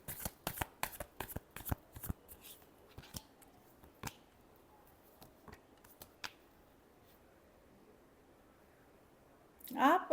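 Tarot cards are shuffled in a run of quick, crisp riffling snaps near the microphone, with scattered single flicks after and a brief louder flurry at the end, over faint room hush.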